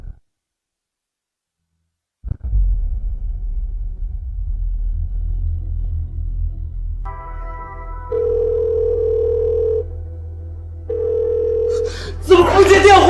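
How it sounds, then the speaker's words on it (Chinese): An unanswered outgoing phone call: after a click, a low line hum gives way to two long steady ringback tones separated by a pause, then a burst of noise at the end. "怎么不接电话？"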